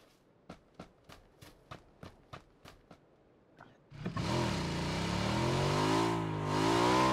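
An in-game vehicle engine roars up after several light footstep taps, swelling into a loud, steady revving drone that holds close for the rest of the moment.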